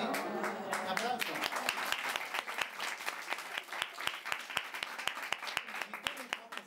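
Sharp, evenly spaced claps ring out in a quick, regular rhythm during a black pottery demonstration, close and crisp, while a person speaks over the first part.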